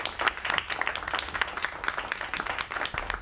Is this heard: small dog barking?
no